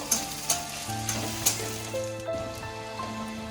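Chopped onion fries in oil in a pan, a close steady sizzle broken by a few sharp clinks of a utensil against the pan, with no one speaking.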